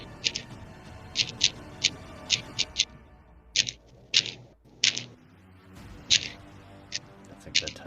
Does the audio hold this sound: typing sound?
yes